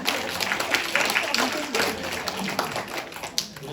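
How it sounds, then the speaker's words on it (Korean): Audience clapping at a talk on children's speaking and writing, a dense close patter of many hands spread through the room, with voices murmuring faintly beneath. "박수 한번 해주세요."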